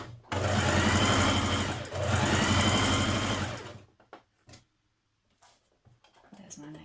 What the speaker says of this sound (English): you're going to understitch that line of stitching to your pockets